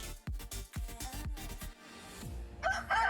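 A rooster crows in the Hen House Clarion Call of the Harry Potter Wizards Unite video game, preceded by a rapid run of clucks and plucked notes and followed by a bright chiming flourish, clear and with no talk.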